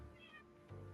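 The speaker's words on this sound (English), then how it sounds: "My cat is also meowing" A house cat gives a short, faint meow indoors in a quiet room, a single thin drawn-out call under low background hum.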